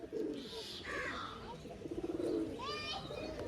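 Pigeons coo in a repeated, throaty rhythm at close range, with a few higher bird calls and someone talking over them.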